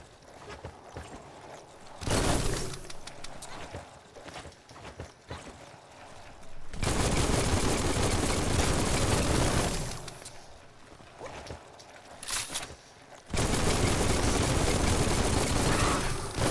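Gunfire in the action game Biomutant comes in loud, sustained bursts of rapid shots that alternate with quieter stretches, two long fusillades dominating the latter half.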